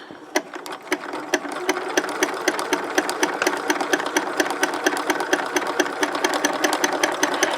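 A sewing machine stitches fusible appliqué with the presser foot pressure lowered, running in a fast, even mechanical chatter of stitches close by, with a brief start-up before settling into a steady rhythm and no talking.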